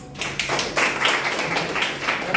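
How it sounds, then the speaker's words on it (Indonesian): A small university class gives a short burst of hand clapping after an immunization lesson, scattered claps filling a couple of seconds at moderate level. "Oke, bagus, tepuk tangan"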